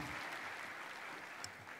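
Audience applause at a formal 60th anniversary celebration of Kenya's diplomatic journey, a steady dense wash of clapping heard at a distance, fairly quiet and continuous without talk.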